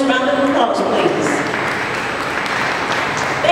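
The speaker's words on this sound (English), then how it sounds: "to give them all a nice round of applause, please." Audience applause at a summer festival awards ceremony in Ocala, a dense steady clatter of clapping that holds for the whole stretch, with some crowd voices blending in beneath it.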